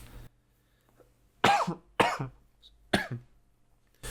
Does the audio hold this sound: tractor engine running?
no